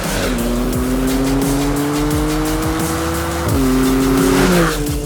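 A supercar accelerates hard with its engine roaring and rising through gears while tires squeal through a dip, loud and close, with shifts marked by brief drops in pitch.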